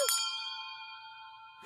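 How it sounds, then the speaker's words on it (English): Cartoon bells ring out in two bright metallic strikes, one at the start and another at the end, with a long shimmering tone sustaining and slowly fading in between, clear and close with no talk. "Stop ringing!"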